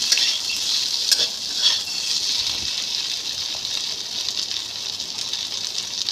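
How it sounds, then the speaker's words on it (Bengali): Potatoes fry in a little oil with turmeric and salt, a loud bright steady sizzle with spatula stirring and scraping against the pan, close up, with no talking. "আলুগুলো লাল করে ভেজে নিই।"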